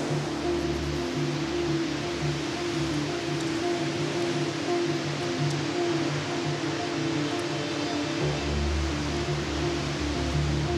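Meltwater roars down a glacier moulin nearly 60 metres beneath the ice, a loud, unbroken wash of rushing water with a deep rumble that swells slightly near the end, with no voices.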